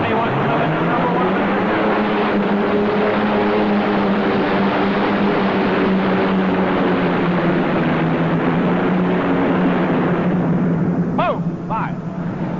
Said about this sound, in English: You can see these big cubic inch engines, fuel injected on alcohol.